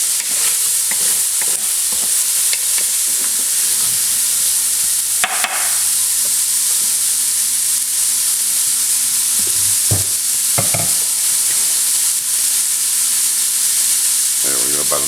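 Chopped onion frying in oil in a pan holding browned bits left from searing pork loin: a steady, loud sizzle runs throughout, broken by occasional scrapes and clatters of stirring, with no talking.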